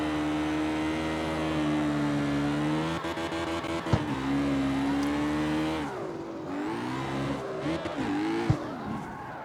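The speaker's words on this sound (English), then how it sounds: "I'm in fourth and I clutch kicked it" A hot rod in CarX Street revs hard and loud throughout, its engine note dropping and surging again as the clutch is kicked, with a couple of sharp transient knocks along the way; no one talks.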